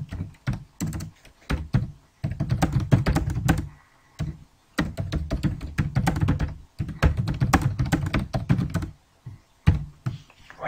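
Keys clatter on a computer keyboard in quick close-up bursts of clicks and soft thunks, with short pauses between runs of typing.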